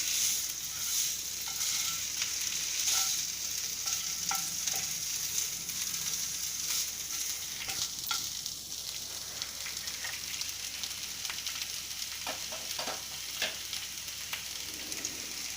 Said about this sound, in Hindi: इसको पहले 1 मिनट तक फ्राई कर लीजिए।